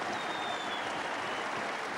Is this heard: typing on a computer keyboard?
no